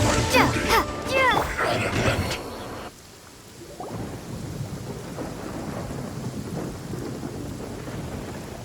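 Bellowing Thunder attack in Genshin Impact, a booming thunder crash with a heavy rumbling tail that fades into rain-like hiss, following a burst of shouted character voice and game effects at the start.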